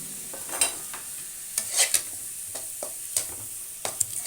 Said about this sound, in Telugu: ఉప్పు వేసుకోవడం వల్ల ఉల్లిపాయలు త్వరగా వేగుతాయి.